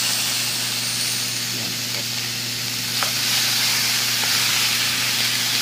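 Boiled pork spare ribs, a kilo of them, sauté in a pot for sinigang, producing a loud steady hiss and sizzle with a few faint clicks of stirring and no talking.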